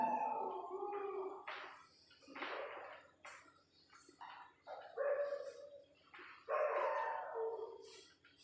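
A dog barking repeatedly in irregular bursts, some yelping and sharp, others longer, faint and somewhat distant, with quiet gaps between and no talking.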